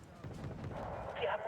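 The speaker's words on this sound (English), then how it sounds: "Oh, artillery." Artillery fire in the Wargame: Red Dragon battle game rumbles as a short, muffled, low boom sustained for about a second, with a voice talking over it.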